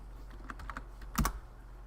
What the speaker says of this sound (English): I keep typing up the wrong numbers.